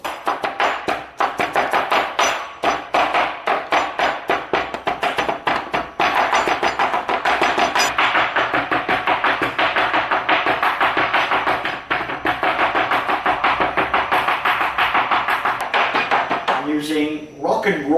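A cleaver chops noodle-dish ingredients on a board in a rapid, loud, steady run of sharp close knocks that continues for most of the clip, then ends in a brief clatter.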